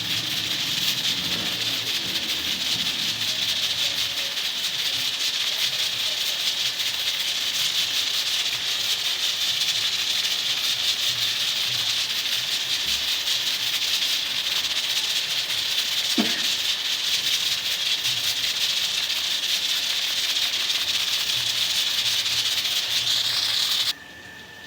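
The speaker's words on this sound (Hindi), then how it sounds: "अब दाल हो गई है प्रेशर कुकर में।" Pressure cooker cooking dal gives off a steady, loud hiss that runs unbroken for the whole stretch and cuts off abruptly at the very end, with no voices over it.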